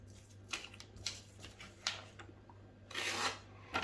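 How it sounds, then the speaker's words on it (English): A freshly sharpened cheap kitchen knife slices through a sheet of paper in several short, crisp rasping strokes, faint and close, with a longer swishing cut near the end. "let's see if it'll cut the paper"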